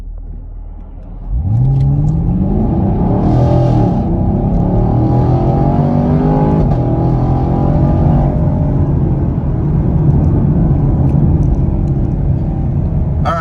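A 2021 Camaro LT1 engine roars to life and revs hard, rising in pitch as it accelerates loudly and steadily for several seconds, close by.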